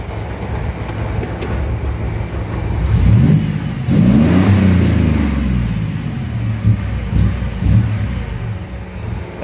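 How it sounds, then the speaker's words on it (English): A Black Widow motorcycle fitted with new exhaust pipes idles with a deep, low rumble, then is revved once in a strong, rising blip before settling back to a steady throb, close and loud. "Give it a little rev."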